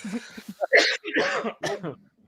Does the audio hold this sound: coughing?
yes